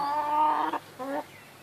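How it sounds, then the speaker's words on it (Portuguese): Orpington hen on a small farm clucking, two short drawn-out vocal calls, the first longer, then a pause, heard up close with no talk. "Essa é a galinha Orpton."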